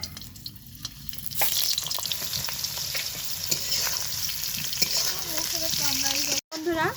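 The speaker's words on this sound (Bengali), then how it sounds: "গরম তেলে ভাপানো আলুটা ভেজে নিব" Steamed potatoes fry in hot oil in a wok, a continuous close sizzle with occasional stirring scrapes, while a voice speaks faintly underneath.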